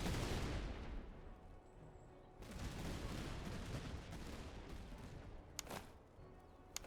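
Musket volleys ring out across a battlefield in the Master of Command video game, French light corps firing in heavy rolling bursts of overlapping reports with a dense, sustained crackle.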